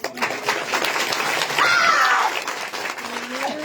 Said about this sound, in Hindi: लो भाई अब तुम्हारे से ताली बजाई जाती हो तो बजा लो।